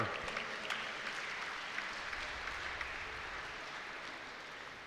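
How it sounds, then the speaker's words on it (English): Spectators at an indoor national archery shoot-off applaud softly, a faint, even wash of scattered clapping heard from a distance in a large hall, steady and unbroken. "give a round of applause to Bob Eiler"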